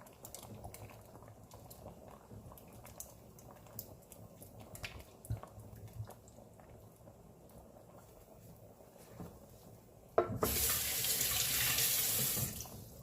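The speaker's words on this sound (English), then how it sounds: "I'm gonna go ahead and add my coconut milk." Coconut milk is poured into a cooking pot for a Jamaican oxtail stew: a quiet kitchen background gives way near the end to a loud, rushing pour that lasts a couple of seconds.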